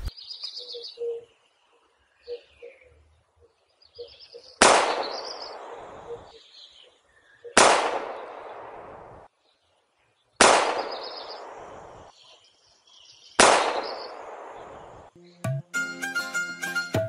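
A gun fired outdoors in a Haryanvi comedy sketch: four sharp, loud shots spaced a few seconds apart, each with a ringing decay, while birds chirp faintly in the background.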